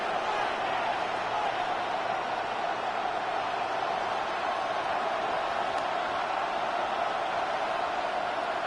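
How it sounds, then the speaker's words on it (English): A stadium crowd in the Madden 26 football game roars as a steady, dense wash of noise, loud and unbroken, with no voices standing out. "The crowd making their presence felt."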